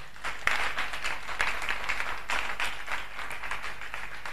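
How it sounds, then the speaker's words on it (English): A church congregation claps their hands together during a worship service, a moderately loud burst of many hands with a few sharper individual claps standing out over a steady patter. "Give God a hand clap."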